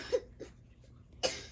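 A woman coughs twice at a hometown pro rodeo during team roping: one short cough early, then a louder, sharper one near the end, with quiet crowd ambience between.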